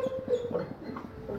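A Rottweiler whimpers close by, giving a thin, high whine in short pulses that fade into softer breathy sounds.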